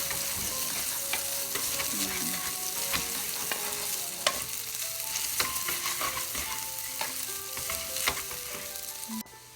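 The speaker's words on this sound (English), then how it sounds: "I just wanna fry it just a little bit" Meat and vegetables for pancit guisado sizzle in a pan, with a continuous frying hiss broken by repeated clinks and scrapes of a utensil stirring against the metal.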